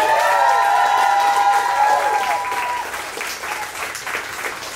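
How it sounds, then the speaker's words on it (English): Applause and clapping from an audience at a summer fashion show rehearsal, with performers gathered on stage; steady dense clapping that starts loud, then gradually thins and softens, with faint crowd noise underneath. "All right, one more round of applause for everyone."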